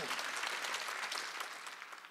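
Steady applause from a church congregation at a Wednesday service, dense and continuous clapping that holds at a fairly even level and eases off slightly toward the end.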